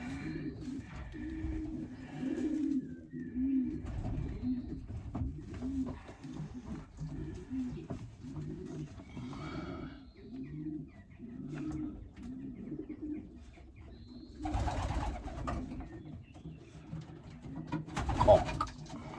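Racing pigeons coo softly in a loft, low rounded calls repeating through the stretch, with wing flutters and a few louder bursts near the end; someone talks quietly at times.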